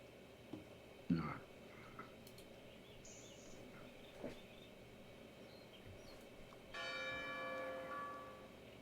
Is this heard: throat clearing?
no